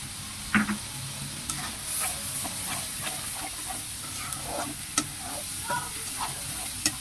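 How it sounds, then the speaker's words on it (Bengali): Onion paste and ginger-garlic paste sizzle and hiss in a frying pan as a little water is added, with stirring scrapes and a few sharp clinks of a spoon against the pan, close and steady. "সামান্য একটু পানি দেবো যাতে মশলাটা না ছিটে"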